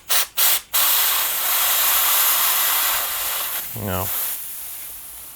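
A workshop air compressor fires sharp blasts of air at about 110 psi at a motorcycle brake piston: two short loud bursts, then a long sustained hissing blast, with a brief spoken word partway through.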